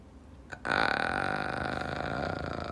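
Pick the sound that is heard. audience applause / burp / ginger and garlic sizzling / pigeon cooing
burp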